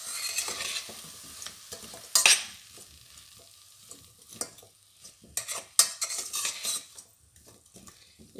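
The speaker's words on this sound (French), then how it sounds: "Il faut les laisser un petit peu revenir dans l'huile" Vegetables sautéing in oil for a winter soup, a soft sizzle broken by irregular clattering stirs and utensil scrapes against the pot, close and with no voices.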